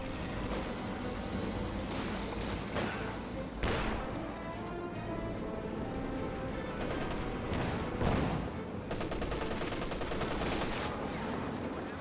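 Grenade explosions and bursts of machine-gun and rifle fire in the World War II strategy game Company of Heroes 2, a dense battle din with repeated thuds and rapid rattling volleys.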